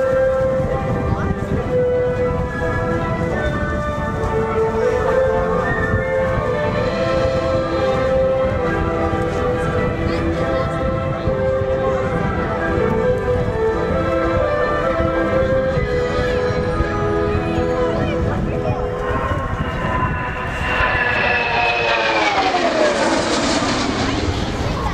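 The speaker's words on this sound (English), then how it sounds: "its last pass at Avalon for this show, from 40 Squadron Royal New Zealand Air Force, the Boeing" A Royal New Zealand Air Force Boeing 757 from 40 Squadron makes a pass at the Avalon air show, its loud, steady jet roar sustained throughout and rising into a sweeping whine as it passes close.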